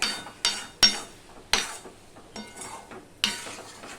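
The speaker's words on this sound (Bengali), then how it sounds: "পটলগুলো দিয়েও আমি একটুখানি মিশিয়ে নিয়ে রান্না করে নেব অর্থাৎ কষিয়ে নেব" Fried pointed gourd (potol) being stirred and mixed in a pan, with several sharp spatula scrapes and clinks over a light, steady sizzle, close and moderately loud.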